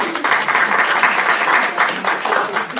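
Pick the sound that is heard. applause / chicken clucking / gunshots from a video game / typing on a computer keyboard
applause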